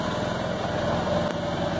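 A gasoline motorcycle engine runs steadily nearby with its brake locked, a continuous buzzing drone with a light mechanical rattle and no talk over it.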